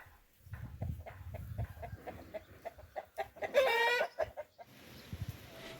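Several free-range village chickens in the North Aegean cluck close by in irregular bursts, with one louder, drawn-out squawk near the end over quiet outdoor background.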